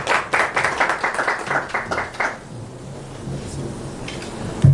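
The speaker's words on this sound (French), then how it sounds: "On accueille l'ambassadeur, on applaudit s'il vous plaît." An audience at a press conference claps in rapid bursts to welcome an ambassador; the applause is loud at first, then fades into quieter room noise and murmuring.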